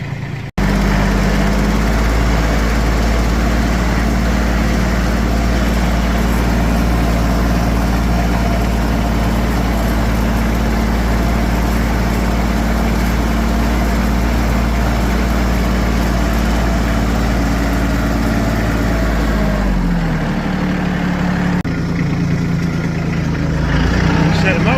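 Tractor engine running steadily while back dragging a yard to rough up the ground, a loud continuous drone with a low hum that drops in pitch near the end.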